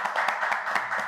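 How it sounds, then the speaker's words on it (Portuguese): A short burst of applause at the close of a podcast recording, brisk clapping from a small group of hands, close and fairly even for about a second. "Para fechar, uma salva de palmas, produção me ajuda de novo."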